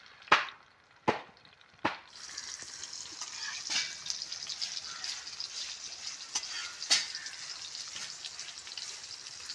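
Fish sizzles steadily in hot oil during a garden cookout, following three sharp clacks at the start. The frying hiss runs continuously at moderate loudness with small pops and no talking.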